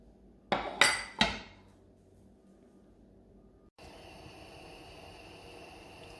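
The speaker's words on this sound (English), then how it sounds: "let's keep chopping all this meat" A knife chops steak into small pieces on a cutting board for steak ranchero, giving three sharp, loud chops in quick succession. A quiet pause follows, then a steady background hiss.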